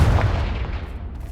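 Confringo blasting spell fired in the Hogwarts Legacy video game, a short booming burst with a low rumble that quickly fades, loud and without talk.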